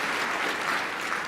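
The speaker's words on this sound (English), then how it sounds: "can I get just a huge round of applause for that entire team" Applause from the crowd at an annual general assembly honouring a team, a steady, moderately faint wash of clapping for just over a second.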